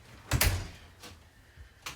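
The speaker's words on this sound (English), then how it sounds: "In or out? I'm closing the door." An indoor door is closed with a firm thump and rattle, followed by two fainter knocks or clicks spaced apart in a quiet room.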